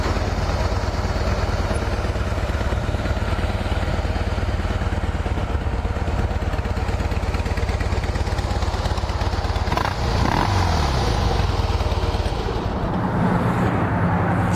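A Harley-Davidson Heritage Softail FLSTC motorcycle idles in a loud, close, steady lumpy rumble, with a brief rev swell partway through and no talk.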